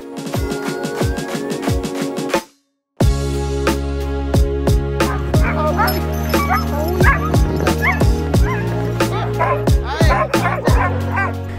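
Sled dogs at the North Pole bark and yip continuously in a dense, excited chorus, close and loud, with people talking over the noise and a brief silent break early on.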